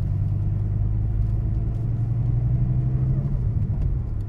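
The 8.4-litre naturally aspirated V10 of a Dodge Viper GTS Hennessey 700R idles with a deep, steady rumble, close and loud throughout.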